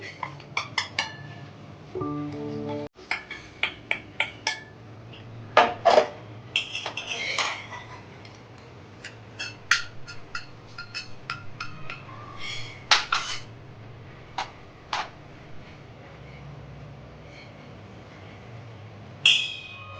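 Aluwadi batter being stirred in a bowl, with rice flour mixed in: a series of scattered clinks and scrapes of a utensil against the bowl, close and fairly crisp, with quiet gaps between bursts and no voice.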